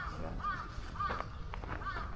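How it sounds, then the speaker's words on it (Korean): Crows caw outdoors along a path, three or four hoarse calls spaced about half a second apart, moderately near, with faint background voices. "그러니까 까마귀가 깍깍거리지."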